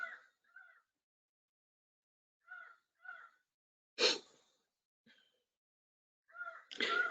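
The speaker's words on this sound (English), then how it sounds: "Can you all hear the crows who have joined ABCD today?" Several hoarse crow caws at intervals, some in quick pairs, with a couple of louder breathy bursts in a quiet setting.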